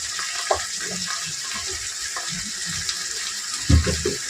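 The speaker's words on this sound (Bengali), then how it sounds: "অল্প একটু জল দিয়ে দেবো" Water is poured into ground cumin, turmeric and Kashmiri chilli in a pan for a fish-head cabbage curry, making a continuous hissing, sputtering sound close by with a few small bumps and clatters.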